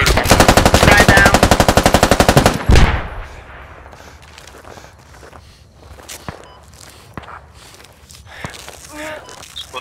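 Rapid automatic gunfire in a multiplayer shooter game, a dense loud burst lasting a few seconds, then scattered single shots, footsteps and clanks at mid distance.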